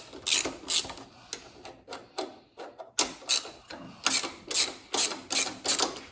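A ratchet wrench loosening 10mm bolts on the engine of a John Deere D105 riding mower, giving close, loud bursts of rapid clicking, about ten short ratcheting runs separated by brief pauses, with no talking.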